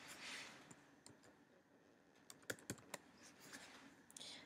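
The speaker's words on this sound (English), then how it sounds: "I'm going to type my text." Keys on a computer keyboard tapped while text is typed into a white rectangle in a photo-editing program; faint, sparse clicks with a few sharper, louder keystrokes clustered midway, over a quiet room hiss, with no talking.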